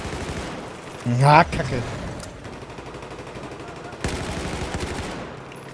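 Gunfire crackles through a Battlefield 4 Rush match, with rapid bursts and a louder volley early on, then scattered fire. Someone talks over the shooting.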